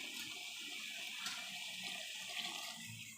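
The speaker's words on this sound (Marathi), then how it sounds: "आता ह्यात पाणी ॲड करते." Water poured into a pan of cooking vegetables for a spicy curry, a steady close splashing and trickling wash with no voices.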